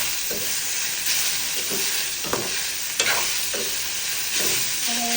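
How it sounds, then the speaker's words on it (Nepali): Chicken gizzards sizzle in a pan with ginger garlic chili paste while a spoon stirs them, giving a steady close frying hiss broken by several scraping stir strokes, with no voices. "अब यसलाई मजाले यहाँ हालेर चलाउने।"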